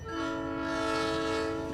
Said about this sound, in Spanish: Escuché silbidos de locomotora.